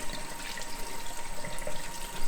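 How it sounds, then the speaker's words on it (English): Lukewarm tap water runs steadily over a removable part of a Siemens coffee machine being rinsed clean, a continuous close splashing hiss with no voices. "So let's just use regular lukewarm water, clean this one out."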